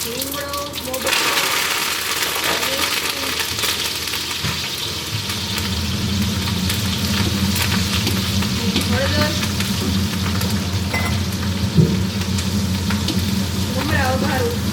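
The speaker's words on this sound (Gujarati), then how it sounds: "ચેવડો વઘારવાનો ટાઈમ આવી ગયો છે આને વઘારું છું" Fennel seeds, curry leaves and turmeric sizzling in hot oil while tempering Gujarati chevdo, a steady loud crackling fry throughout with occasional stirring clinks, someone speaking briefly over it.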